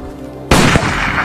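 A single loud gunshot cracks out at a shooting range in an Iranian sniper film, a sharp burst followed by a short ringing tail and a second thump, standing alone against a quiet background.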